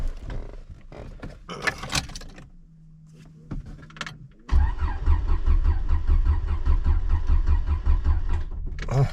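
A Honda Integra with a swapped J32 V6 cranks and fires up: first clicks and rustling and a brief starter whine, then a sudden loud idle that rumbles steadily up close until the end.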